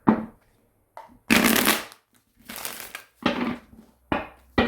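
Tarot cards shuffled by hand in short, loud riffling bursts, about six of them, separated by brief pauses, close up with no other sound.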